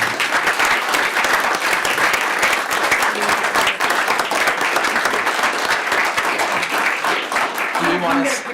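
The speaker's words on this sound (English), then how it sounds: "give you a round of applause" Sustained applause from the audience at a Utah County Commission public meeting, dense and steady clapping throughout with a few voices mixed in.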